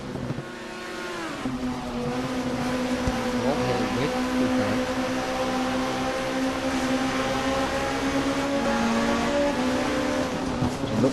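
Race cars roar around Watkins Glen in a sim racing game, with a steady loud engine drone whose pitch rises and falls through gear changes as the cars run close together, and a commentator talks over it.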